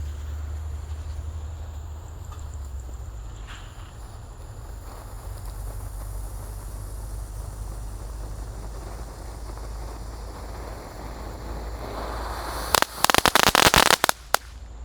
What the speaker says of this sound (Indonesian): Lanjut kita akan menyalakan air mancur kerucut Conic Fountain ukuran 3 inci.